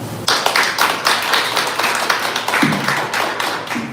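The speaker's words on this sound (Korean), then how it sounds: "다시 한번 뜨거운 박수 부탁드리겠습니다" An audience claps through a talk concert at a political party event in Korea. The dense, steady applause starts after a brief quiet moment, fills the room evenly and carries on without pause, with no voices over it.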